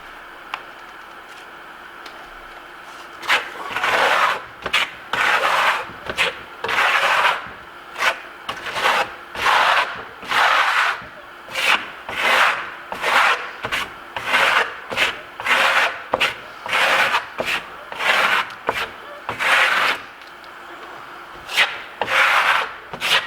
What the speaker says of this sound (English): I'm starting to burnish this as I go